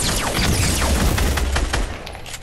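Sniper rifle fire in a video game shootout: a rapid burst of loud, close gunshots with booming reports over about two seconds, fading slightly at the end, with no talk.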